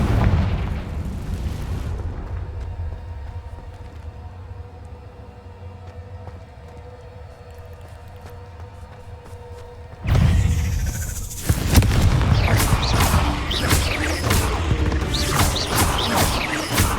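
Confringo spell explosions in the video game Hogwarts Legacy, a loud booming blast at the start, then quieter cave ambience with a low hum before a second burst of crashing, crackling debris.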